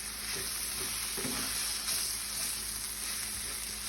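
Plant-based mushroom taco filling fries in added fat in a pan on lowered heat, a close, even sizzle that crackles softly throughout with a few faint stirring scrapes.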